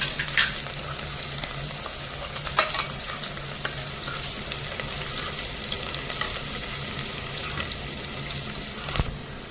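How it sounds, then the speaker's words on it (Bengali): Onions sizzle steadily in a hot pan with a dense, close crackle and occasional stirring scrapes and clinks, with a brief water-like rush at the end. "এই দেখেন পেঁয়াজটা ঠিক এইভাবেই ভেজে নিতে লাগবে"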